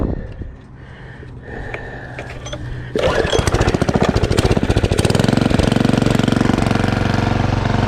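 Homemade roto-tiller's small engine running: after a quiet stretch it kicks in loudly and close, a rapid, steady hammering putter that settles into a dense, continuous roar.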